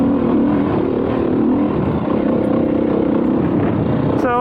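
A 2021 Beta 500 RRS dirt bike's engine roars under throttle, a loud, close, continuous rumble with a steady revving drone, and a voice speaks briefly at the very end.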